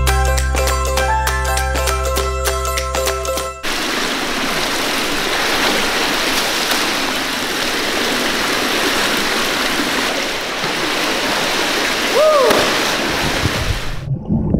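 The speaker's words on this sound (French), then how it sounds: "on fait ressortir au maximum sa nageoire hors de l'eau pour éclabousser tous ceux qui sont derrière nous" A swimmer kicking a mermaid fin throws up water in a continuous rushing splash that runs loud and close after a few seconds of music, with a brief voice-like squeak near the end.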